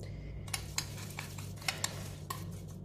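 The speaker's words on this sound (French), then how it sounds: "On mélange bien." Spoon stirring a homemade coffee scrub made with coconut oil in a bowl: several soft scraping taps and clinks at irregular intervals over a low steady hum.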